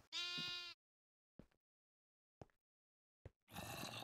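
Blocky video game sheep from Minecraft bleat loudly twice, a long wavering baa at the start and another at the end, separated by silence and a few soft clicks.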